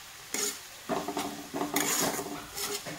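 Onion and garlic paste fries in a pan for rajma chawal, stirred with a utensil that scrapes and clinks against the metal in several close strokes over a faint sizzle.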